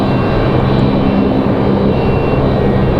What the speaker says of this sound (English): Got a Medevac departure over here.